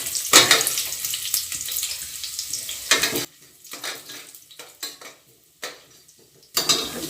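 Mustard seeds, chana dal and dried red chillies fry in oil in a pan, a close sizzle with spoon scrapes and metal clinks against the pan, quieter crackles in the middle stretch.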